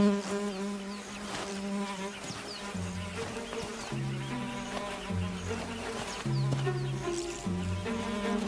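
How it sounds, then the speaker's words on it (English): A tsetse fly buzzes around a young lion on a hot African savanna, a steady insect drone with shifting pitch, close and moderately loud over a low outdoor background. "The Misfit is bothered by a tsetse fly."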